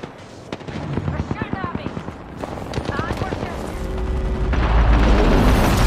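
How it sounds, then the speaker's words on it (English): Enemies in Apex Legends fire at the player: rapid bursts of automatic gunfire crack out in a quick rhythmic string, followed by heavier booming and a rising roar. "The enemies are shooting at me."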